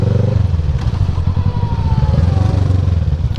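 A BMW motorcycle rolls slowly toward a parking spot, its engine giving a loud, steady low idle throb with a rapid pulsing rhythm and light mechanical clatter, heard close and without speech.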